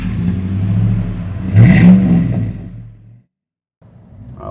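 Chevrolet 5.3 liter truck V8 with dual exhaust and large 3.5-inch tips revs up, swelling to a louder burst midway before dropping away into near silence, then a faint hum returns.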